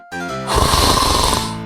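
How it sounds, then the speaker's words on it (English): A vampire snores in a retro point-and-click video game, one long drawn-out rasping snore swelling loudly over a steady synthesized background tone. "Are you snoring?"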